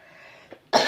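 A single harsh cough bursts out near the end, close and loud, following a faint quieter cough-like sound and light background noise.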